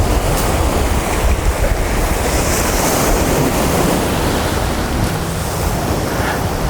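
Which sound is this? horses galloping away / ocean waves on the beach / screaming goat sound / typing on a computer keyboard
ocean waves on the beach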